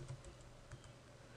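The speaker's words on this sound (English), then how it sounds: "I'm going to start typing in slope" Quick, soft keystrokes on a computer keyboard, a few light taps in a brief burst in a quiet room.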